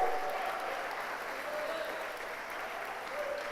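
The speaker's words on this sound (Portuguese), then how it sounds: "Pode aplaudir mais" A church congregation applauds during a service, a soft, continuous wash of many hands clapping at a distance, steady throughout with a faint voice underneath.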